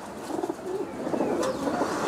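Yellow-eyed Deshi Giribaz pigeons cooing in a loft: soft, low, rolling coos overlapping in a gentle murmur, fairly faint, with a small sharper chirp partway through and no talking.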